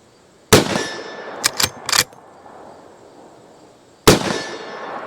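Sharp shots ring out from a Henry .357 Magnum lever-action rifle striking steel targets: one loud crack, then a quick cluster of three, a pause, and a final crack, each with a brief metallic ring.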